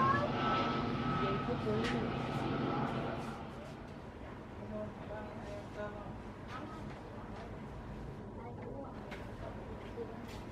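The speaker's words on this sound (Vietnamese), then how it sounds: "Chiếc máy bay đang chạy taxi tới đoạn cuối của đường lăn E6, sân bay Tân Sơn Nhất" An EVA Air Boeing 777-300ER in Hello Kitty livery taxiing on a taxiway at Tan Son Nhat airport, a steady jet engine whine that is louder at first and then eases to a lower, distant hum.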